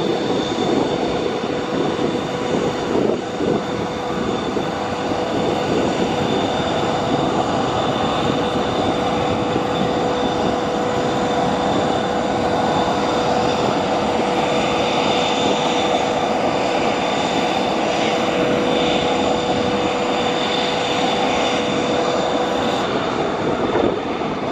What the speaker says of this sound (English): This Boeing 777X making a very steep takeoff and then some very steep turns.